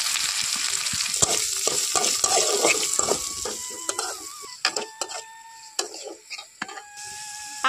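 Chopped onion hitting a hot pan with cumin already in the oil, giving a steady close sizzle with stirring clatter and scraping throughout, while fish roe is cooked in a Bengali kitchen.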